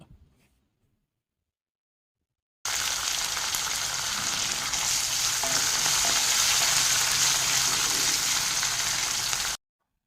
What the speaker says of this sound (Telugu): కొంచెం జీలకర్ర కరివేపాకు కొంచెం అలాగే మూడు ఎండిమిరపకాయలు కూడా తుంచి వేసేసుకోండి